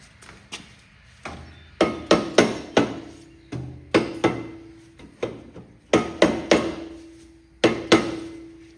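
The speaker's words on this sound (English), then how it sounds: "We're going to use that dead blow hammer." Dead blow hammer striking a muffler on a Cub Cadet lawn tractor, a series of sharp, close, heavy thuds with brief ringing, hit singly and in quick clusters of two or three with no talk.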